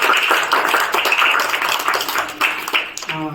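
Audience clapping at a community gathering, a dense burst of applause close by, continuing for a few seconds before a voice begins speaking at the end.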